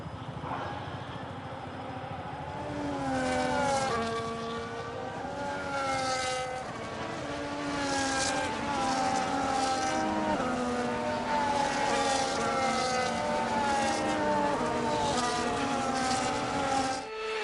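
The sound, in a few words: F1 race cars on formation lap in F1 25 video game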